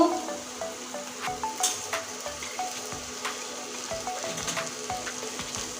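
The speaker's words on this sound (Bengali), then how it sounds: "এবার সব মশলা পড়ে গিয়েছে এবার নেড়ে নেব সুন্দরভাবে" Ground spices (coriander, chili, turmeric powder) with salt and potato filling sizzle steadily in a hot pan, with repeated scraping stir strokes and small clicks of the spatula throughout, close and moderately loud, no voices.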